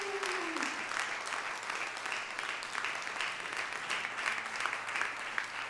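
An audience applauds at a Bordelhas show event in Nord Dordogne, a dense, steady clapping that fills the room for several seconds, with no speech heard over it.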